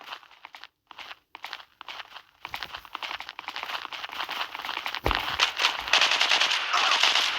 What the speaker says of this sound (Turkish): Nereden sıktılar lan?